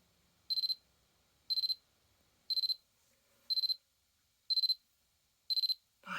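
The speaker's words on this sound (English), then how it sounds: "That's a lovely alarm." A vintage Seiko digital watch alarm beeps in short, rapid bursts of high-pitched tones, repeating six times at a steady one-second rhythm in near silence.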